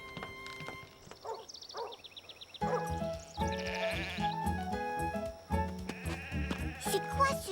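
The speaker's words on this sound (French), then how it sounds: "Youpi, grand-mère, regarde! Des moutons!" Cartoon sheep bleat in short, wavering bursts, first a few sparse calls and then a busier overlapping chorus, with light hoof-like knocks and background music.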